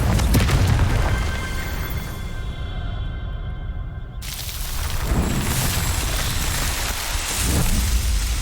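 A Confringo fire spell blast in Hogwarts Legacy bursts out as a loud, dense roar of broadband noise, shifting partway through and rumbling on steadily to the end without any voices.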